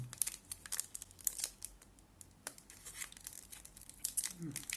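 The plastic wrapper of a coconut-filled dark chocolate bar is opened with close crinkling and tearing sounds in short irregular bursts, with a voice speaking faintly in between.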